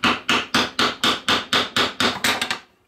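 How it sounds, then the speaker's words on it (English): A wooden piece is hammered onto a dowel until it sits flush, about eleven sharp, evenly spaced blows that ring briefly and speed up slightly toward the end, close and loud with no talking. "we'll hammer our second one on until the dowel is flush"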